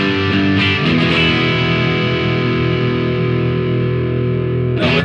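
A Fender Esquire electric guitar strums a simple riff, one loud driven chord struck and left to sustain over several seconds before a fresh attack near the end.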